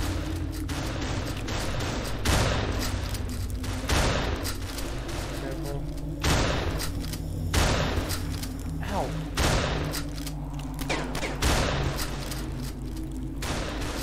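Gunfire in the video game Ravenfield: repeated heavy booming shots land every second or so over a constant low rumble of battle, with a voice talking over the action.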